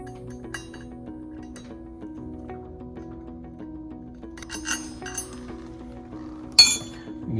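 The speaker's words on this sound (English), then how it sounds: "tighten our rotor retaining bolts" Rotor retaining bolts go back onto an Ampco ZP1+ series pump during a double o-ring seal change, giving a few light metallic clinks and taps with faint ringing, close by in a quiet room.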